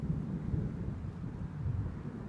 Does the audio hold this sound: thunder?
yes